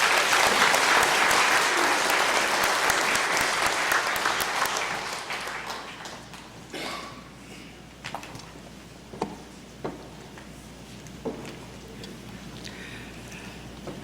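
Applause from a church congregation welcoming a guest pastor at a worship service: dense, sustained clapping for several seconds that thins out and fades into scattered claps and room noise.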